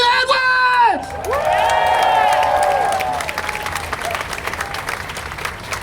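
Audience applauding and cheering at a public political rally, a loud, sustained burst of clapping with whoops that slowly tapers off, following a voice calling out a name.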